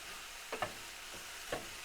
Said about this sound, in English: Just getting the spices to fry a bit